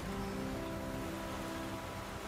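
Steady rain in The Flame in the Flood video game, a soft continuous hiss of falling water with faint tonal hum underneath, quiet and unchanging throughout.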